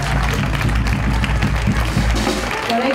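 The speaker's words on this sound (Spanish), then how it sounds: "Un fuerte aplauso para ellos." Applause at a carnival costume contest in Serón in 2022, loud clapping from the crowd mixed with low rumbling hall noise and some murmur.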